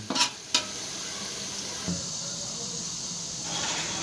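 Chopped onions browning in a pan give a steady soft sizzle and hiss, broken early by a couple of sharp stirring scrapes and a brief clatter near the two-second mark.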